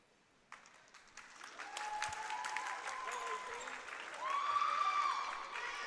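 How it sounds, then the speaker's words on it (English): Fans applaud at a women's college volleyball match in a gym, clapping rising from quiet to a sustained moderate level, heard at a distance with squeaks and crowd noise while a commentator talks over it. "we'll get a round of applause as"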